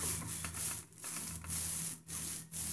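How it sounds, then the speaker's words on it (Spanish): A knife cuts oily, rolled-out brioche dough into equal pieces, giving steady rasping, rubbing strokes with short pauses between passes. Close and fairly loud, with no voices. "vamos a ir cortando en pedazos iguales"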